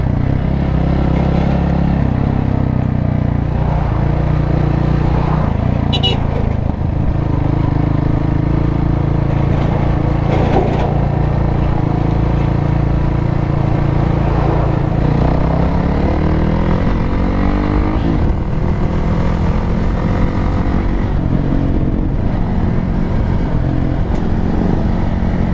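A Hero Xpulse 200 motorcycle on the move, its engine droning continuously under heavy wind rush, with shifting engine pitch as the ride goes on.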